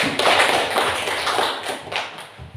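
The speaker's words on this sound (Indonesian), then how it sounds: "tepuk tangan buat Yanti" A class of students clapping hands for a classmate, a dense close burst of claps that thins out toward the end, with no talk over it.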